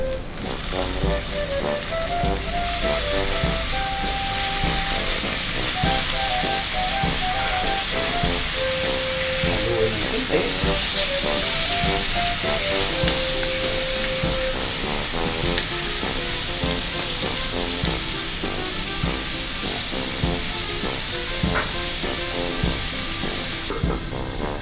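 Garlic and onion sizzle loudly and steadily in a hot pan for monggo, a dense continuous frying crackle with background music playing throughout.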